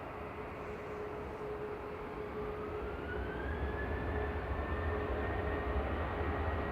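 An Embraer E2 jet at Manchester Airport gives a faint, distant, steady engine drone with a rising whine over low rumble. No one speaks.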